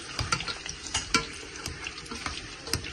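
Eggs with food colouring frying in a hot pan, a steady close sizzle with occasional utensil clinks and stirring scrapes, no voices.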